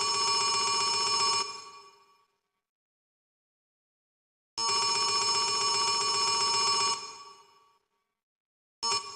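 Old-style telephone bell rings loud and close in two long bursts separated by silence, with a third ring just starting at the end; no voices.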